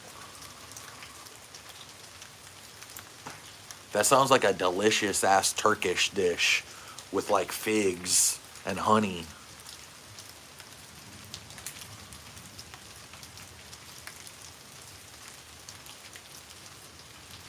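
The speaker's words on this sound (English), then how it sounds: "What are you doing in the rain?" Steady, faint rain patters on a surface throughout, a soft continuous hiss that carries on under a few seconds of someone talking in the middle and continues alone afterward.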